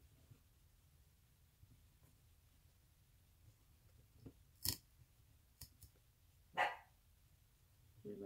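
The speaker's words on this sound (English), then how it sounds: "My dog barking." A dog barks indoors a few times from another room, a couple of sharp isolated barks spaced apart amid quiet background with light clicking.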